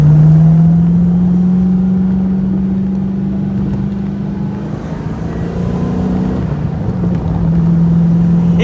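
TVR Chimaera sports car engine droning and revving on the road, a loud steady low note from inside the cabin that dips and rises with throttle, with some wind noise.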